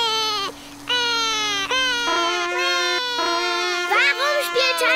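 A cartoon baby cries loudly after waking, with repeated wailing sobs in rising and falling phrases, close and continuous over a steady background tone.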